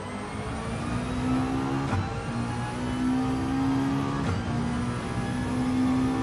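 Car engine in Gran Turismo 7 racing, a steady mid-pitched revving drone with gear-shift dips roughly every two seconds as the car pulls along the track.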